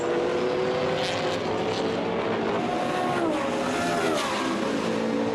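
On-board sound from a McLaren GT1 race car at the Navarra circuit, a loud sustained engine howl with pitch shifts as it downshifts and accelerates into a corner, no talk over it.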